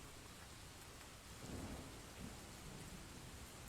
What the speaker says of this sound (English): it's just a website where you can make sounds of raining going in the background